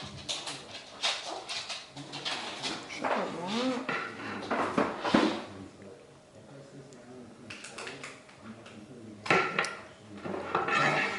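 Dishes and cutlery clinking while dinner from a crockpot is plated, intermittent light clatters and scrapes at close range, with people talking throughout and a dog whimpering at times.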